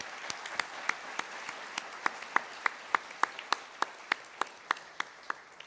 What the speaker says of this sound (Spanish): Pido un fuerte aplauso para ella.